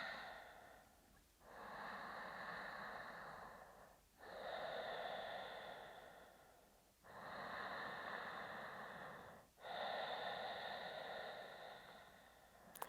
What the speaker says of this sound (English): keeping that nice throat Ujjayi breathing